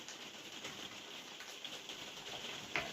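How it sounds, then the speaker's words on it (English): Steady light rain patters outdoors in a soft, even wash, faint and continuous with a brief brighter drip near the end. "You can probably tell it's been raining pretty much all day."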